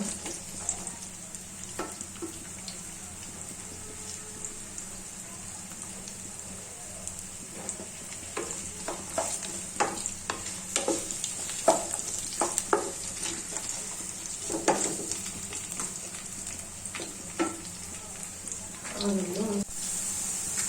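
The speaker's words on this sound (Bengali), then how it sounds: "আলুগুলো আমি 1 মিনিট আগে ভেজে নেব।" Potatoes fry in a pan for pulao with a continuous sizzle while a utensil scrapes and knocks against the pan in irregular strokes, and a voice speaks briefly.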